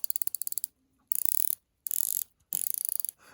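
Rotating bezel on an Invicta Pro Diver watch turned in four quick runs of crisp, evenly spaced ratcheting clicks, very close and sharp, separated by short silences, no talking.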